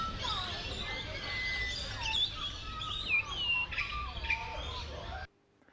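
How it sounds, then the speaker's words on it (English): Many birds chirp and tweet together in thin, high, overlapping calls over a busy background murmur, then the sound cuts off abruptly near the end. "And the birds are wonderful."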